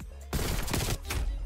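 AK rifle fire rattles out in Black Ops Cold War, a sudden loud burst of rapid shots after a quiet moment, a short break, then a second burst, close and punchy.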